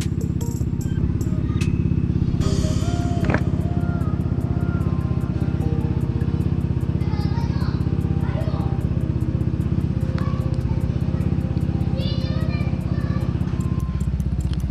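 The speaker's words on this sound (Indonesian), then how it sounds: "Tuh suara knalpotnya kedengeran nggak?" A Honda PCX 160 scooter idles close by with a steady low exhaust rumble that runs unbroken for the whole stretch, while a person talks faintly over it.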